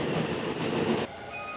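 Inside a Japanese commuter train near Yokohama, a steady rumble of the car and wheels on the rails runs loud and close, then drops suddenly to a quieter hum near the end.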